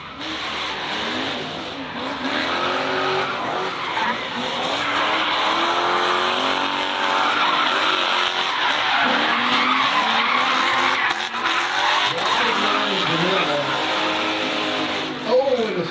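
Drift cars at a Southern Regional Drifting event on the plains skid with long squealing tires and revving engines, a continuous loud roar under an excited commentator's voice.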